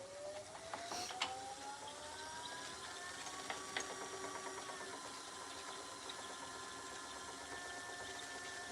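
A woodworking lathe turns a wooden piece and is brought up toward 500 RPM, a steady close mechanical hum with faint whining tones that slowly climb in pitch, with a couple of light knocks early on.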